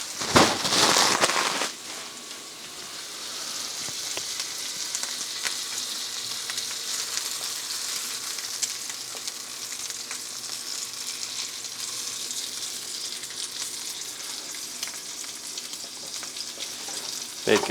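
Bacon frying in a pan, opening with a brief louder burst of handling and then settling into a continuous, even sizzle with fine crackles, close and moderately loud, with no talking.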